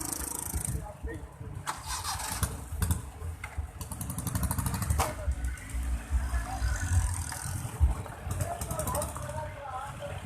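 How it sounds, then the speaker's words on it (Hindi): A loaded tractor trolley rumbles and clatters over a potholed, broken road, its engine chugging unevenly nearby while people talk over it. "देख रहे हैं, ये अब ट्राली आई है"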